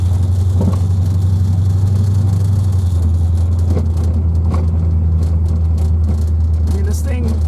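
A 1984 Corvette Z51 with a swapped 5.3 LS V8 drives along with a steady low engine drone and cabin rumble, a few thumps over the road, and someone talking over it.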